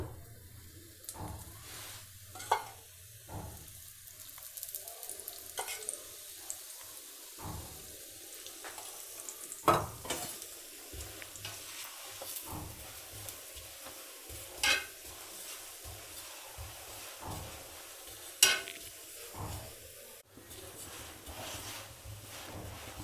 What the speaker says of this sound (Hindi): अच्छी तरह से पराठे को हम एक साइड से सेकेंगे और फिर साइड करेंगे चेंज।